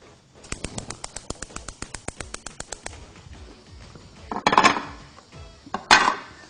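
Sliced onions, one very large or two medium, go into a frying pan with oil. A quick run of light rhythmic taps comes first, then two loud, close bursts of sizzling as the onions hit the hot pan.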